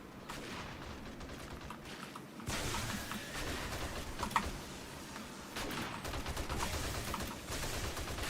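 Gunfire in the video game 7 Days to Die, a dense stretch of rapid shots and bursts under a steady noisy bed, moderately distant and fairly quiet, with a sharp crack near 4.4 seconds.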